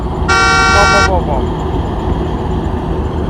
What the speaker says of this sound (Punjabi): ਪਹਿਲਾ ਹਾਰਨ ਵੱਜੇ ਜਿਹੜਾ ਨਜ਼ਾਰਾ ਆਉਂਦਾ ਨਾ ਉਹ ਵੱਖਰਾ ਹੀ ਆ